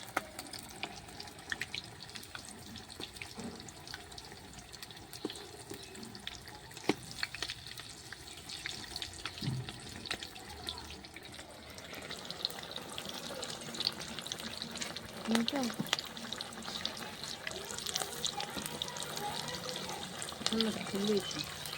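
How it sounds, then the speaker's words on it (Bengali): Cabbage-leaf Mughlai rolls, two at a time, fry in oil with a steady, watery sizzle that swells in the second half, joined by occasional stirring clinks and someone talking over it. "দুটো করে ভাজছি"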